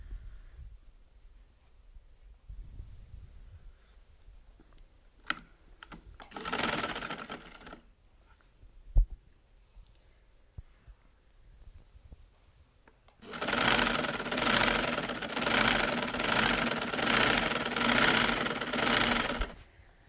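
A sewing machine stitches invisible lace into a kurti slit from the inside: a short early burst, then a steady, fairly loud run of rapid stitching lasting about six seconds, with quiet handling noises between.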